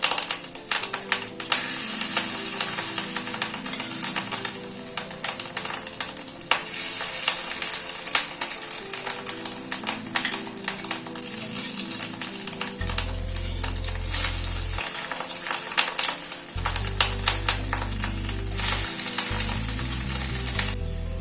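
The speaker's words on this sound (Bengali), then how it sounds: "তেলটা গরম হয়ে যাওয়ার পরে অল্প অল্প করে ডিমের একটা গোলা দিয়ে নিচ্ছি, নিয়ে বড়ার মতো তৈরি করে নিচ্ছি" Fish roe fritters frying in hot mustard oil: a dense, continuous crackling sizzle close by, with sharp pops and spits, plus occasional low tones laid over it in the later seconds.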